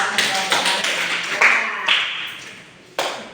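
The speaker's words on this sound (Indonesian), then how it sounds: "Tepuk tangan dong." Brief scattered applause in a classroom after a student answers in a chemistry lesson on acids and bases, a few hand claps and taps fading over a few seconds, with a nearby voice speaking at the start.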